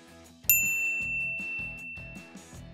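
A bright notification bell rings a single clear ding that rings out and slowly decays over a rhythmic musical backing track.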